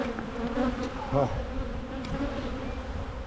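Honeybees buzz steadily around an opened hive during a January inspection, a dense close hum with a few louder passes near the microphone and a brief voice murmur.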